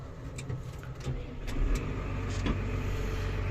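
A tractor engine is started for field cultivation with a 6-metre cultivator, giving a steady low rumble that swells slightly partway through and then holds at an even, close idle.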